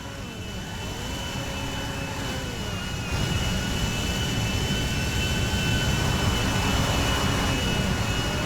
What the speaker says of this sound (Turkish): Kanka acayip büyük bir uçak lan.